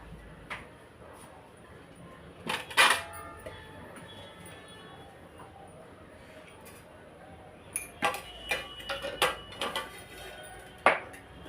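A metal kadhai wok is set on the stove and handled, giving quiet clanks and knocks in two clusters, a pair early on and a busier run of rattling taps near the end, over a faint room hush.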